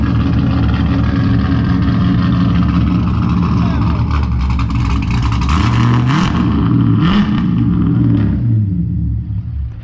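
A Ford Mustang with a full straight-pipe exhaust rumbles close and loud, its engine revving in rough swells over a deep idle, while people talk alongside.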